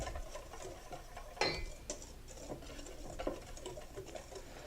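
Dry ingredients for jalapeno cornbread are stirred in a bowl, soft faint scraping and light tapping in an irregular rhythm, close and quiet with no talking.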